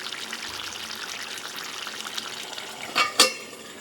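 Ghee goes into a pot of mutton cooked with banana flower and garam masala, giving a low steady sizzle with two sharp splashy bursts near the end, no voices.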